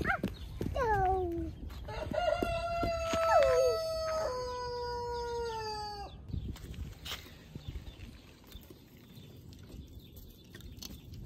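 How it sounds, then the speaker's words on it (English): Two chickens cluck and squawk close by on a farm in Pawtucket, Rhode Island, then a rooster crows loudly with long, drawn-out calls, followed by quieter scratching and rustling. "Yeah, two chickens and one rooster."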